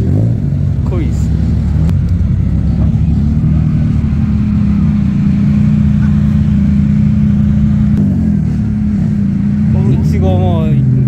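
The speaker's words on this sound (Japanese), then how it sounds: "レーシングカーだ。" A racing car's engine runs loud and close at a car meet held at a stadium, holding a steady rumbling drone with some revving throughout, while people talk nearby.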